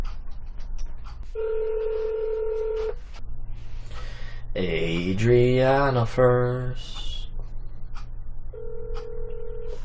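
Phone call to the Baldwin County District Attorney's office in Georgia: tones sound in two steady bursts at the start and end, with a voice speaking briefly in between.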